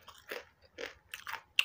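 Crispy unripe plantain chips are bitten and chewed close up, four or five distinct crunches in uneven rhythm with short pauses between, loud and alone.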